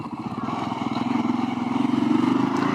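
A Kawasaki KLR650 motorcycle accelerating in second gear, its single-cylinder engine thumping with a steady pulsing drone that rises in pitch and grows louder over a few seconds.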